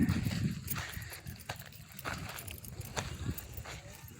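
A horse walks at an easy pace, its hooves clip-clopping at close range in an irregular rhythm over steady outdoor background noise, with people talking around it.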